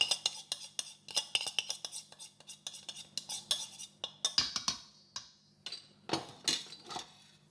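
Quiet, irregular scraping and tapping of a rubber spatula folding flour into banana bread batter in a bowl, close and faint, with short uneven strokes and no talking.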